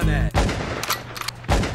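Gunshot sound effects punctuate a rap track, with sharp broadband bursts at the start and again near the end over a steady low beat and a brief voice underneath.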